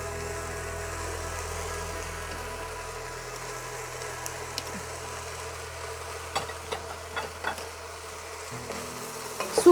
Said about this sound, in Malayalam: ഇതിലേക്ക് നമ്മൾ അരിഞ്ഞു വെച്ചിരിക്കുന്ന സുക്കീനി ഇട്ട് കൊടുക്കാം.